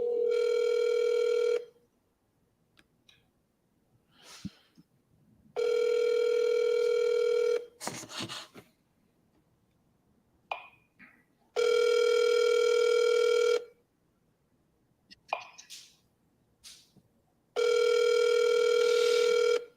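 A steady telephone tone sounds on an outgoing call in four long bursts of about two seconds each, separated by gaps of quieter noise and brief clicks, as when ringing out to a real estate seller or buyer.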